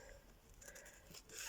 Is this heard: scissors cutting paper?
yes